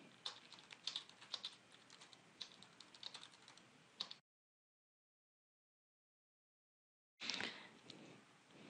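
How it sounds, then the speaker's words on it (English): Typing on a computer keyboard: quick irregular clicks of keys pressed close up, a run of keystrokes that stops for several seconds of silence, then resumes in a brief burst. "then I can start typing"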